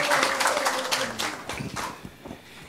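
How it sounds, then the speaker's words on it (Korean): Audience applause at a public debate forum on the Gwanghwamun Square flag, a lively burst of many people clapping that fades steadily over a couple of seconds, with a brief voice audible near the start. "훌륭한 발제를 해주신 우리 이수석 교수님께 다시 한번 큰 박수"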